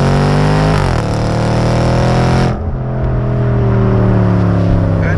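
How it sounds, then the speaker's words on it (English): A Range Rover SVR's loud, steady exhaust note drones at close range, revving briefly and then settling into a deep, sustained rumble. "Exhaust tone, skip to the exhaust tone right now."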